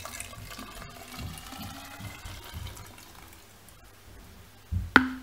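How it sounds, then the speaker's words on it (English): E10 fuel with dyed water poured into a container, a soft, continuous trickle of liquid that builds gradually and ends with a few sharper splashes and a knock near the end. "pour it in there. E10 fuel with the dyed water."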